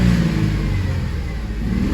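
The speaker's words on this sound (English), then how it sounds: "I'm going to rev up the motor" A car engine revs up and holds at elevated RPM with the throttle kept open to burn off carbon after a throttle body cleaning spray treatment; steady, loud and close, with no talking.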